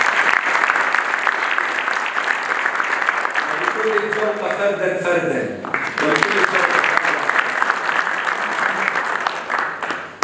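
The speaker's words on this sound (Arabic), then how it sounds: "تصفيق حميم لجاكلين جورجيس" Warm audience applause at a church gathering for the Assumption of Mary, sustained crowd clapping throughout with a voice speaking over it midway before the clapping swells again.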